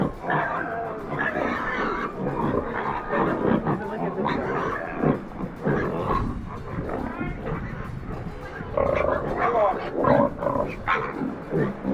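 Pigs on a beach grunting and snorting in a busy, continuous jumble of low guttural animal noises, fairly close and steady throughout.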